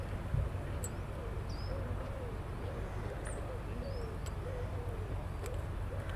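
Pigeons or doves cooing in a slow repeated rhythm near a military airbase runway, soft and steady against a constant wash of wind and distant background noise, with occasional faint chirps from other birds.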